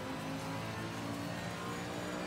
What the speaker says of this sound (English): the Aston sounds really to me like a NASCAR car